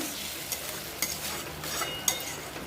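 Tomato paste sautés in a pan with a steady close sizzle, broken by a few sharp spoon scrapes and stirring knocks over a couple of seconds.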